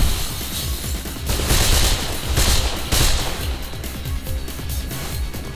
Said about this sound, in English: there are these people coming in with machine guns within city limits